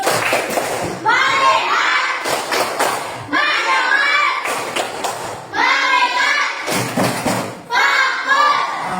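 A classroom of children doing a rhythmic focus clap: bursts of clapping and thumping alternate with short gaps in a repeating pattern, with children's voices chanting along throughout.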